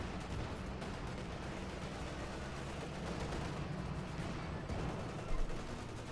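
Continuous artillery bombardment and gunfire in the WWII strategy game Company of Heroes 2, a dense, steady wall of distant booms and crackling shots with no clear pauses.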